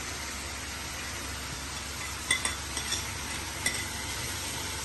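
Three chopped tomatoes fry in hot oil after softened onion, giving a steady close sizzle with a few light clinks of a spoon stirring against the pan.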